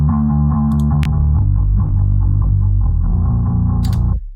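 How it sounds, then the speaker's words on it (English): A thick, distorted bass guitar tone with an octave effect mixed about halfway in, sustained and buzzing, ringing loud and close before cutting off. "Filtering, distortion, and so on. Got an octave going on, mixed at about halfway."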